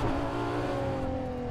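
A Ferrari LaFerrari engine revs hard under acceleration, a steady, loud, continuous roar with strong harmonic engine tones and no voices.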